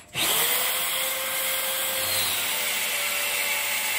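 An Evolution mag drill fitted with a regular bit cuts vent holes in steel for a vertical smoker, running as a loud, steady, close whine from start to finish with no talk.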